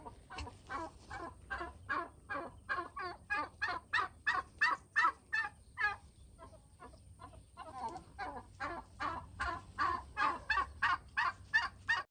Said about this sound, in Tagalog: ang aming mga alagang pabo